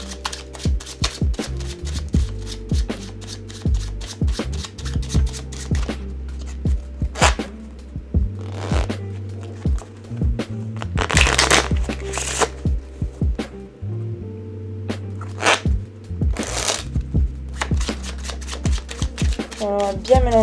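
A deck of playing cards shuffled by hand during a card trick, a series of quick riffling bursts and sharp snaps with soft shuffling between, close and clear, no speech.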